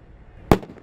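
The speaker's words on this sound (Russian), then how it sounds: "Только стрельба и взрывы холостые." A single sharp blank gunshot or explosion at a military training exercise, one loud close crack with a short fading tail, alone and brief.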